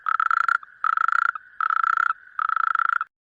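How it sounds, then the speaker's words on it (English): Four long, buzzing toad trills, each about half a second, separated by short pauses. They are close and loud, with no other sounds. "toad"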